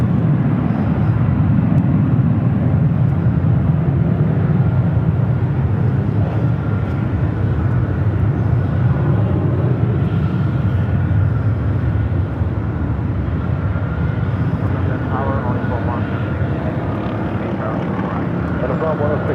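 A WestJet airliner departing Los Angeles airport for Honolulu, a loud, continuous jet engine roar that holds steady throughout, with radio chatter heard faintly beneath.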